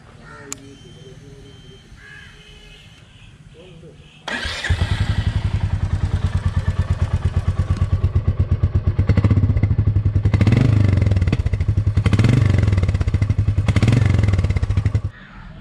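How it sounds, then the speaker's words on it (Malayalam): A Royal Enfield Meteor 350 motorcycle starts after a few quiet seconds, then settles into a loud, steady, thumping exhaust idle close by, with a few blips of the throttle that swell the beat before it cuts off near the end. "നമുക്ക് ആ എക്സോസ്റ്റിൻ്റെ സൗണ്ട് ഒന്ന് കേട്ട് നോക്കാം"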